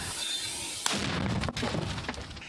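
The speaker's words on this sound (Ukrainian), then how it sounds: "Постріл!" A sharp, heavy blast of a mortar firing cracks out suddenly amid background noise, followed by a rumbling, crackling tail, close and loud, in wartime combat at Chasiv Yar.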